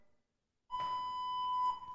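A Henny Penny Evolution Elite fryer beeps in a steady, clean electronic tone while its timer button is held to cancel, ringing on for over a second, clear and close in a quiet room.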